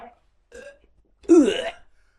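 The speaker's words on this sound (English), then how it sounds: "It just sounds like he burped." A man lets out a single loud, drawn-out burp close to the microphone, preceded by a couple of short faint vocal sounds in an otherwise quiet room.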